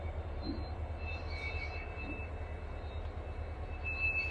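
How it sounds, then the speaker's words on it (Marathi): A low, steady rumble of a freight train with two locomotives, heard from a distance at a faint level with a thin tonal whine above it. "डबल इंजिनची गाडी घेऊन आलेली आहे।"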